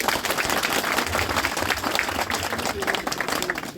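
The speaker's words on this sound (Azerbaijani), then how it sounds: "xüsusən cavanlarını bir alqış istəyirəm ürəkdən" Villagers in Molalan, Lerik district, applaud the young people of the village, a steady, dense round of clapping from a gathered crowd lasting the whole stretch, with voices faintly underneath.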